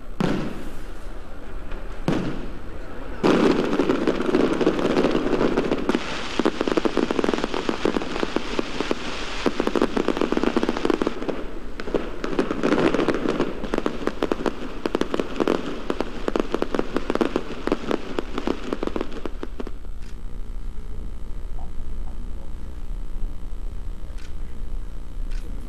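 Fireworks display over palace grounds during a royal banquet celebration: a dense run of crackling bursts and booming pops for about twenty seconds, loud and continuous, then fading to a quieter hum with a few faint tones.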